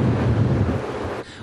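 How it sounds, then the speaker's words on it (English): Strong wind gusting over 75 km/h at Victoria's Inner Harbour buffets the microphone with a loud, rumbling roar that drops off slightly near the end, with no voices. "Winds gusting over 75 kilometers an hour in Victoria's Inner Harbour"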